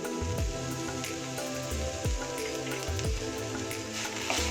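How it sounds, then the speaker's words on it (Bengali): Chopped banana stem (thor) frying in a pan, a dense continuous patter of small crackles and sizzling like light rain, with periodic soft scrapes of stirring, steady and close. "আর কিছু সময় ধরে থোরটাকে ভেজে নেব।"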